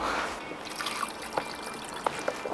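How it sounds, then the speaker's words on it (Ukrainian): A thin trickle of onion water being poured into a pork kebab marinade, followed by a few soft drips and light splashes, close and quiet. "Трішки розрівнюю і заливаю цибулевою водою."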